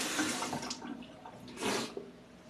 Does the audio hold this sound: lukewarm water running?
yes